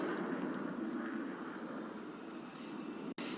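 A Boom Supersonic XB-1 supersonic jet flying, heard as a steady distant roar of engine noise that stays fairly even and faint throughout, with no talking.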